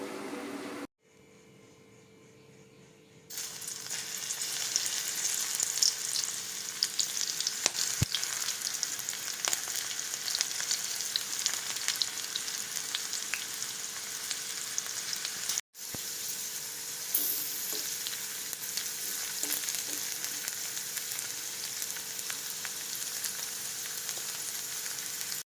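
Spiced okra fries in oil in a pan, a continuous dense crackling sizzle that holds steady and loud, broken by a brief quiet pause near the start and a momentary cut midway.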